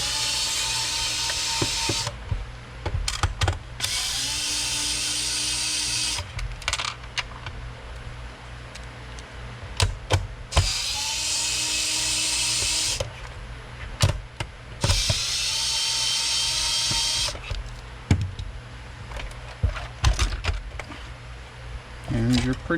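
A screwdriver with an extension working out G4.5 security screws on a Nintendo GameCube during repair, giving bursts of quick ratcheting clicks separated by pauses, with a voice talking over parts of it.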